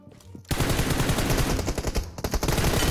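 Loud sustained automatic gunfire in a video game, breaking in suddenly after a quiet moment and continuing as rapid, dense bursts to the end, with a brief gap partway through.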